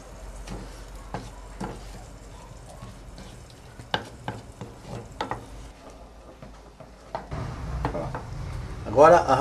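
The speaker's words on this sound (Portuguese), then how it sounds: "Agora a gente vai derreter a rapadura." A spoon stirs rapadura melting with water in a cooking pot, scraping and clinking against the pan in irregular taps over a low bubbling hiss that grows louder near the end.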